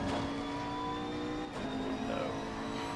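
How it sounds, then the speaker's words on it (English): McLaren 650S race car in Assetto Corsa Competizione at the Red Bull Ring, its engine droning steadily with a prominent high transmission whine and a growly tone, continuous and close throughout with a brief dip midway. "you can hear a lot more of the transmission whine. It's sort of like a more growly BMW sound"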